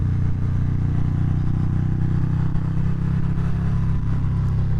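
A 2019 Harley-Davidson Fat Bob 117 with a Stage 3 upgrade rumbles steadily and loudly up close, its deep V-twin throb holding an even, unbroken drone throughout.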